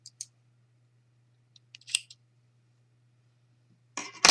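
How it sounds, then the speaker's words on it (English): Scissors snip through crochet yarn strings while working a granny square tote bag, a few faint, brief clicks and snips in an otherwise quiet room, ending with a louder handling rustle. "I might go ahead and cut my strings here."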